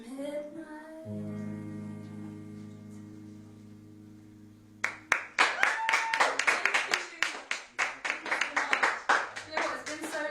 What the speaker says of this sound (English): it's so weird to like have an actual round of applause